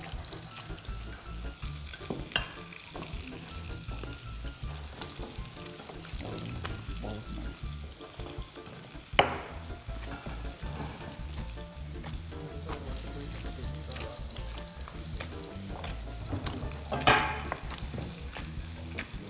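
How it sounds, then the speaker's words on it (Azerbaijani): Tomatoes, pepper and mushrooms fry in a pan with a constant busy sizzle, punctuated by a couple of louder bursts as more food is added or stirred, with no speech over it. "Əlavə edin də o göbələkləri qızsın"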